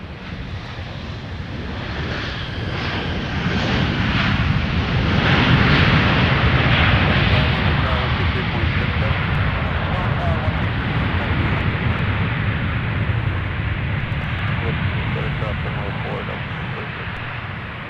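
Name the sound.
Sun Country airliner in Tide Pod livery arriving from Tampa at MSP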